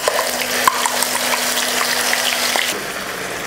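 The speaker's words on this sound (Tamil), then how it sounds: "வெங்காயம் போட்டு நல்லா வதக்கிக்கலாம்" Ground onion paste sautéing in hot oil with cinnamon, cardamom, cloves and curry leaves for chicken curry, a close, continuous sizzle with a brief utensil tap near the start and a faint tone that ends partway through.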